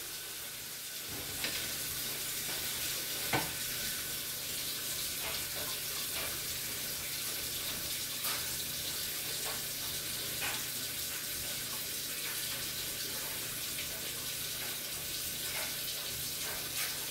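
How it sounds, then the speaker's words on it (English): Hot grease draining off cooked taco meat with peppers, a steady hissing, sizzling pour with faint clicks, constant and unbroken throughout, no talking. "I'm going to drain it now. Drain the grease off."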